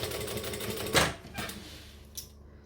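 A sewing machine stitching just above a gap in a panel, one short loud burst of stitching over steady background noise, followed by a couple of fainter mechanical clunks.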